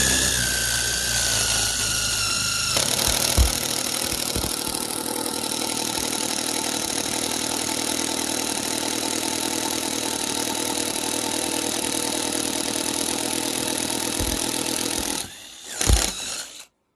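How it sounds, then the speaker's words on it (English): A power drill bores a hole through a wooden rafter beam in a barn, giving a loud, steady whine with a few sharp knocks before it stops near the end. "a hole through, same as I've done here with my drill"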